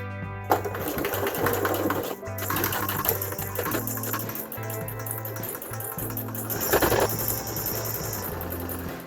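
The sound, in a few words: sewing machine stitching a fabric face mask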